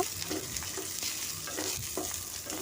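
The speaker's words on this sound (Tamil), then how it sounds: "அடுப்பை வந்து லோ ஃப்ளேம்லேயே வச்சுட்டு நீங்கள் வந்து இதை வறுத்துக்கோங்க" Whole coriander seeds and spices fry in a pan over a low flame, giving a soft steady sizzle with faint scraping stirs every so often, quiet and with no voices.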